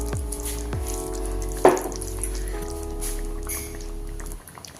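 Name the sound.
coconut egg gravy boiling in a pan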